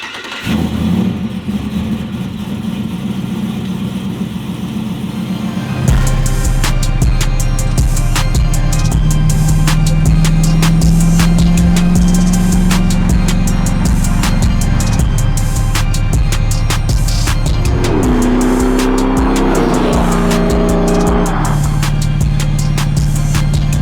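A 1990s third-generation Chevy Camaro restomod with a 525 hp LS3 V8 starts and drives off, a loud deep engine drone that rises through revs and gear changes, close and steady with no talk.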